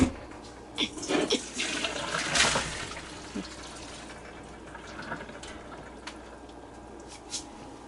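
Pasta water from a pot of homemade macaroni pouring into a kitchen sink, a rushing splash strongest in the first few seconds that then fades into drips and a low trickle, with faint kitchen noise behind.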